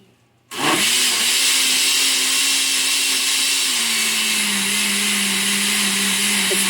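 A blender runs continuously, loud and steady, whirring through a batch of herbed tomato soup with onion, its motor pitch dropping slightly partway through before holding even to the end.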